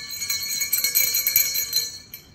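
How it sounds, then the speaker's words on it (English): A small bell, bought at a Christmas store, is rung at home to call kindergarten children to Waldorf-style circle time: bright, tinkling high chimes repeated steadily for about two seconds, close and clear with no talking. "And then I ring this bell."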